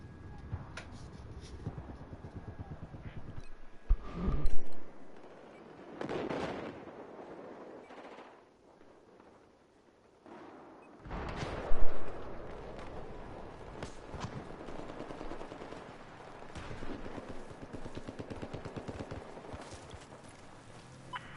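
Bursts of gunfire pin down the player in the Battlefield 4 video game, with sharp volleys and explosive cracks in clusters separated by quieter stretches of ambient battlefield noise.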